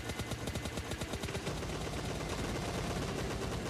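Rapid bursts of automatic gunfire from PUBG Mobile Lite, fired at an enemy spotted near a building, ring out in dense repeated volleys that carry on steadily and loudly throughout.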